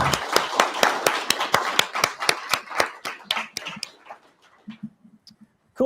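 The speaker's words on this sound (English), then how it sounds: "So once again, a big round of applause," A small audience claps for graduates at a coding bootcamp graduation showcase. A few people clap sharply in a regular rhythm, and the claps thin out and fade to near silence.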